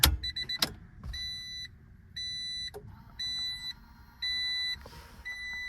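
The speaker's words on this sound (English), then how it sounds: "Fuel pump prime." A junk engine's electrics come alive for fuel pump priming: repeated short electronic beeps in even bursts over a low electric whir and hum, fairly close, with a couple of sharp clicks and no talking.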